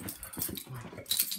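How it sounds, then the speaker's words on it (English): Dog whimpering and growling after a bath, short close vocal bursts and low grumbles, fairly faint, with a little jangling at the end. "my dog goes crazy right after a bath"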